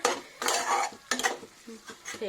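Meat and tomatoes being stirred in a pan over low heat for Assamese-style broiler chicken curry: clattering utensil scrapes in short bursts against the pan, with a faint sizzle underneath.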